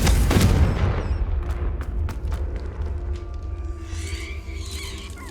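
A Confringo spell blast in Hogwarts Legacy: one sharp explosive burst up front, followed by a decaying rumble and scattered crackles beneath steady game ambience.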